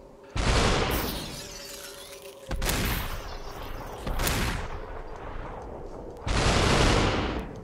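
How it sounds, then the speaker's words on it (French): Shotgun and submachine gun fire in the Superhot VR game, played on Oculus Rift with Touch controllers: four loud, separate bursts of close gunfire, each trailing off, with short quiet gaps between them. "Fusil à pompe, mitraillette, c'est très bien ça."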